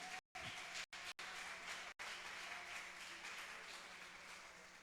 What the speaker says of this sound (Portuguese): Dá um aplauso para Jesus se você recebe isso sobre a sua vida.